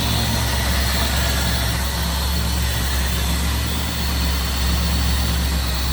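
A 1953 Cadillac Coupe DeVille with tuned port injection idles steadily with the hood open, a smooth, even low rumble heard close up and alone, no talking.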